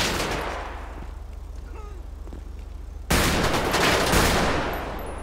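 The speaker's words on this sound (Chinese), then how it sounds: "拿出我的手枪再跟你对打，来呀！" GTA 5 shootout gunfire, sharp bursts of rapid shots crackling in close succession, then a sudden louder wall of heavy firing and blasts that rumbles on to the end, loud and near, with no speech.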